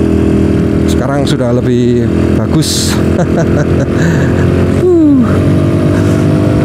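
A self-built motorcycle ridden on the Cangar mountain road before dawn: the engine runs loud and close throughout with rising and falling revs, while someone talks over it.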